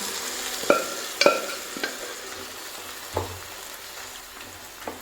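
Spoon scrapes and clatters against a pan as cooked bone-in meat is stirred in, a handful of sharp knocks spread over a few seconds with a faint sizzle underneath.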